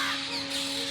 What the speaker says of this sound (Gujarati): પક્ષીઓનો કલરવ, પક્ષીઓનો અવાજ,